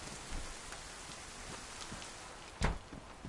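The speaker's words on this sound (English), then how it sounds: "safe from the rain." Steady rain falls in the survival video game DayZ, a soft, even hiss of drops with one brief louder patter near the end and no talk.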